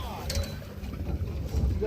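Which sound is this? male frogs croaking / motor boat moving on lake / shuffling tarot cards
motor boat moving on lake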